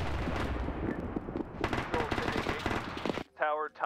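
Dense, continuous gunfire and explosions fill a modern military video game airfield battle, close and loud, with voices talking over the barrage before it cuts out near the end.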